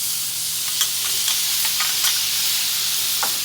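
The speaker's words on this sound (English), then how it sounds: "we're going to hit it with the minced garlic" Minced garlic sizzles in a hot pan with beef fried rice, a steady loud frying hiss broken by a few brief scraping stirs, with no voices.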